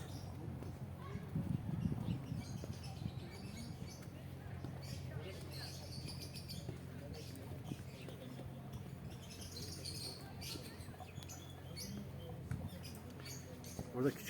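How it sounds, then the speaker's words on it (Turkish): Peacocks and parrots in a small animal park near the beach, with scattered faint chirps and squawks over a low murmur of distant voices and background noise. "Genelde tavus kuşları ve papağanlar var."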